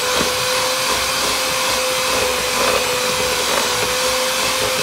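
An electric mixer whirring steadily as vanilla bean is mixed into pound cake batter, a constant close, loud motor drone with a fixed whine and no talk.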